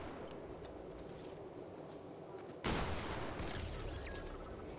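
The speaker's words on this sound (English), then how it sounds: "Dude over there was shooting at us." A sudden burst of gunfire in a Fortnite match breaks through quieter ambient noise, a sharp close volley followed by a continuing rough rattle, with no talk over it.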